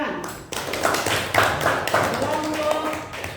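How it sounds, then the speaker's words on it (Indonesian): Students in a classroom give a round of clapping for a group, steady and close, with voices mixed in underneath. "Tepuk tangan."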